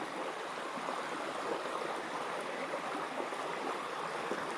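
Creek water flowing steadily beside a tilapia fish pond, an even, continuous rushing wash at moderate distance with no voices.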